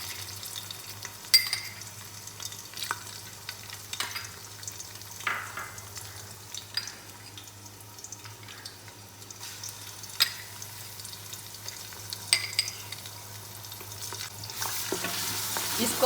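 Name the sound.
garlic ginger paste frying in hot oil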